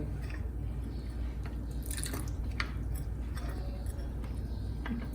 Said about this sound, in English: Now slowly go on pouring that 1 cup of milk in it to mix it.